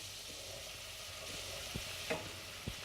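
Plain flour is stirred into melted butter in a pan: a quiet, steady low sizzle with a few soft scrapes and taps from the utensil near the end.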